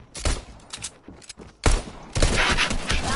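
Pistol fire in a video game comes in quick bursts of close, sharp shots, with short gaps between clusters and a denser volley near the end, and nobody talks over it.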